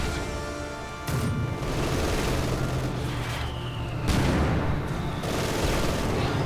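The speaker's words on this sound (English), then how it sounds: "Lots of mortar fire." Mortar and gunfire in a World War II real-time strategy battle between Soviet and German forces, a dense, continuous barrage of explosive booms and crackling shots with several heavier impacts standing out.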